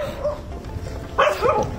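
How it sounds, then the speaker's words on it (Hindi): Dogs on a trekking trail give a brief burst of barks and yips near the end, fairly close, over low outdoor background noise. "ये भौंक पड़े"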